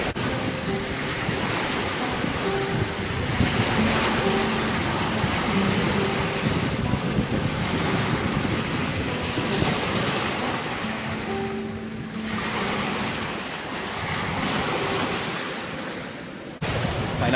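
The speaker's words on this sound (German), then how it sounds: "Ihr könnt es schon hören, dieses Rauschen von den Wellen, von dem Wasser." Continuous rush of waves washing against a lake shore at Lake Constance (Bodensee), Kressbronn, with a steady breezy hiss and gentle swells rising and falling throughout.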